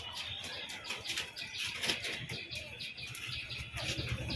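A single male High Flying Giribaz pigeon gives soft calls and rustling wing flutters close by, over a continuous low background.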